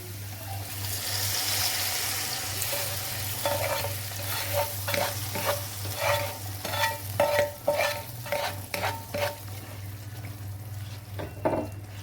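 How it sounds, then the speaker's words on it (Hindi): Hot oil sizzles as spices are tempered in a pan for chana dal while a spoon stirs and scrapes with a series of sharp clicks, close up over a low steady hum. "और अब मैं इसमें तड़का लगाऊंगी।"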